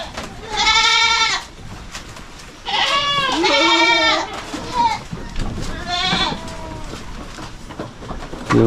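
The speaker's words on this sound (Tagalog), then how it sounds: "Maingay ito yung mga kambing natin" Several goats bleat loudly in wavering calls, a few separate bursts with pauses between, close by, with some background farm noise.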